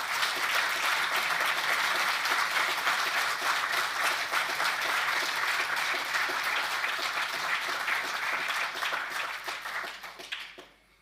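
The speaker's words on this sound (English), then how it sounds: "Let's have a huge applause" A conference audience at a counter-terrorism summit gives a long, full round of applause, many hands clapping steadily and loudly for about ten seconds before it quickly fades out.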